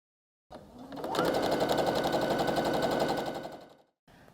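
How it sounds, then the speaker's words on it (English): A sewing machine stitches a strip-pieced quilt block, its needle hammering in a fast steady rattle for about three seconds, close and alone, then slowing to a stop. "We strip pieced each row, we cut them apart, and then sewed them together."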